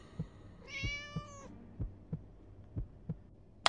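A cat in the Scary Teacher 3D video game gives one clear, drawn-out meow over a steady, soft rhythmic thumping like a heartbeat, with no talk.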